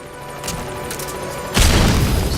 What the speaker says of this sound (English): We'll go ahead and use a stun grenade to take him out.